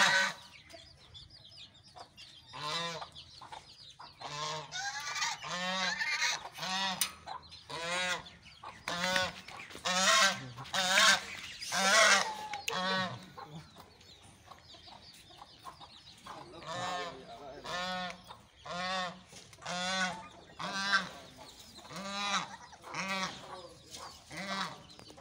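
Farm ducks honk and quack in repeated loud bursts, several birds calling close by in an uneven, overlapping rhythm with short gaps between.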